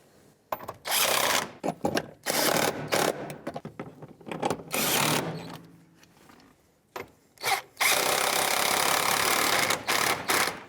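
Ratchet or tool work snugging the rear strut nuts on a 1997-2001 Lexus ES300: bursts of close, rapid clicking and whirring, broken by short pauses, with no talk.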